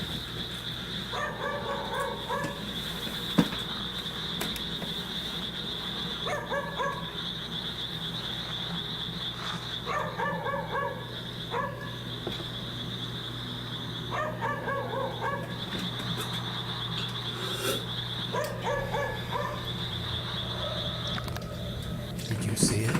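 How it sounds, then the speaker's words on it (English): A dog barks in a graveyard, with clusters of sharp barks recurring every few seconds at a moderate distance over a constant high-pitched hum and background noise. "he decides to film as he searches for the barking dog"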